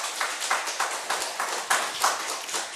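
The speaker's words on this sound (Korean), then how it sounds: "우리 축복하며 박수하겠습니다." A church congregation applauds together during a Sunday service, a dense stretch of steady clapping at moderate volume, with no voices standing out.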